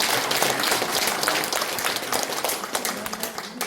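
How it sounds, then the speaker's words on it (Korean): An audience at a Korean lecture gives a full round of applause, dense and steady clapping that stays loud throughout and fades slightly toward the close. "동의하신다면 박수 한번 부탁드리겠습니다."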